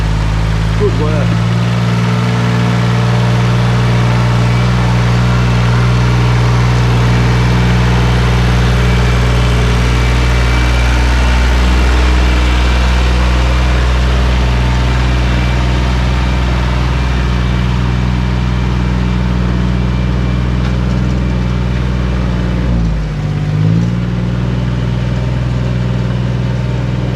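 A car's engine idles loud and close with a deep, steady hum and low vibration as it creeps over planks off-road, the tone dipping briefly near the end, with voices talking over it.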